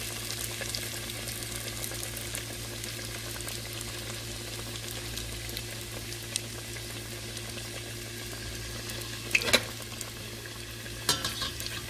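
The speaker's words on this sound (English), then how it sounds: "And it don't need to fry long." Panko-coated Hot Cheeto Korean corn dogs frying in hot oil, giving a steady soft crackling sizzle with a couple of brief louder clatters near the end, close and without voices.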